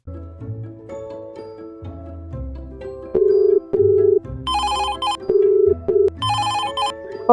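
A telephone rings in a Marathi drama, several loud electronic ring bursts in a repeating pattern over a background music score, with no talk.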